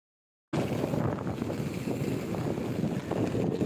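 Strong wind roars across the coast at Sablayan, Occidental Mindoro, a loud, continuous gusting rush buffeting the microphone that starts abruptly and keeps blowing without talk.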